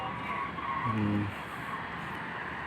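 Cars pass along a road in Saudi Arabia, a steady roar of traffic with tyre noise, one vehicle briefly louder as it goes by, heard from the roadside.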